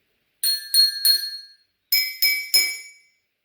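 Two groups of three clear, ringing glass tones, struck one after another and left to ring out briefly, with a pause between the groups.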